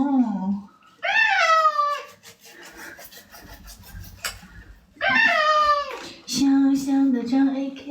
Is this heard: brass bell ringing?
no